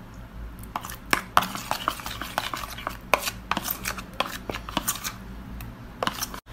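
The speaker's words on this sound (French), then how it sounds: "Ensuite, on va venir mélanger l'ensemble." A honey mixture being mixed in a bowl gives quick, uneven scraping and clicking strokes, some sharp and close, with no talking.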